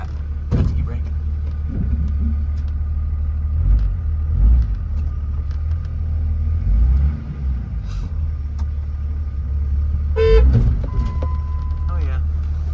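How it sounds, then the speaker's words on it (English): A pickup truck's horn sounds a short honk when shifted into reverse with the door open, followed by a steady electronic warning tone, over an idling engine rumble and talk. "Truck honks when you put it in reverse with your door open."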